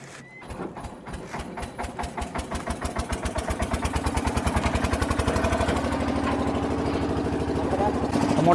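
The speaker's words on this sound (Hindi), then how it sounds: "मोटर कंप्लीट चालू हो गया, मोटर भी स्टार्ट हो रहा है अभी" A Texmo 2hp high-pressure submersible agricultural pump motor starts up with rapid rhythmic pulsing that speeds and grows louder, then settles into a steady mechanical drone nearby.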